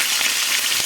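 Curry leaves and green chillies frying in hot oil in a pan, a steady loud sizzle throughout, with no voices.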